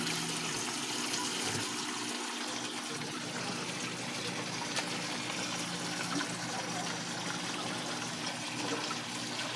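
Water runs and splashes continuously, a soft rushing flow that stays fairly quiet and steady throughout with faint background noise.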